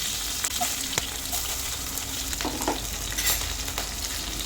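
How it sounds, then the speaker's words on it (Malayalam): Chopped garlic and ginger frying in hot oil alongside curry leaves in a curry pan, with a loud continuous close sizzle, scattered pops, and occasional stirring scrapes, no voices. "അതിലേക്ക് അരിഞ്ഞു വെച്ചിരിക്കുന്ന വെളുത്തുള്ളിയും ഇഞ്ചിയും ഇട്ട് കൊടുക്കാം"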